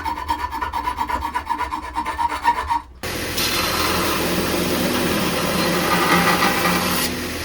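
A reforged axe head from a garage sale being worked with a file or grinder: steady, loud abrasive rasping that switches abruptly after three seconds to a broader, harsher continuous grinding hiss, with no voices.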